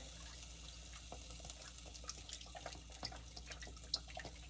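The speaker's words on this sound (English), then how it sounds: "pour a little bit more chicken broth in here" Chicken broth poured into a pot on a gas stove for a Southern soup, a faint, soft liquid trickle with small drips and splashes, quiet and close.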